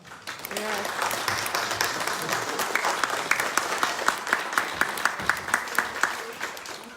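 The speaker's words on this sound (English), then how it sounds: "Ms. Maddox, a round of applause for being bold." Audience applause at a press conference, a sustained burst of many hands clapping that grows steadier and more rhythmic toward the end.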